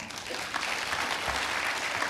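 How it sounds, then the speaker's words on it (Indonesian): A church congregation claps steadily through a sermon, a dense wash of many hands at close-to-moderate distance, with no voices rising above it. "Tepuk tangan Tuhan kita ada."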